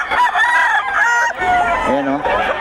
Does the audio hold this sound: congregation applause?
no